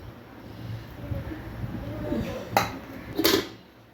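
Metal stand set down inside a pot for baking buns, two sharp metallic clanks in quick succession near the end, preceded by soft kitchen handling noise.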